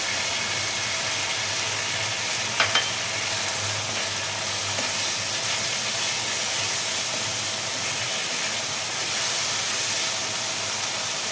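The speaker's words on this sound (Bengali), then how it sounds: "একটু ভালো করে ভাজতে হবে এটা মশলাকে একটু কড়া করে ভাজলে" Ground cumin and other spices sizzle in a hot pan for a Bengali potato and fish-bone curry (aloo kanta chorchori), a steady close hiss and crackle running throughout with no talking.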